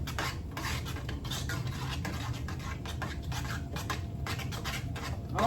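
A utensil stirs cheese into mashed tuber root in a pot, making steady, rhythmic scraping and rubbing strokes against the pot with faint clinks, close and continuous throughout.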